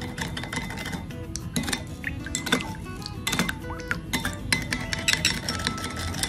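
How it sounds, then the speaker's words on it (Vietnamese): Seasoning is stirred into the sauce for a pan of roasted crab, with light utensil clinks and scraping against the pan over a steady background hiss and wet, bubbling texture. "Mình cho vào trong đây mình khuấy đều ha."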